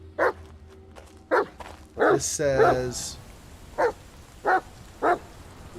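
A dog barks outdoors on a forest walk with a steady rhythm of single loud barks, about six over several seconds, close by, with a brief whine in the middle and a person speaking quietly between them.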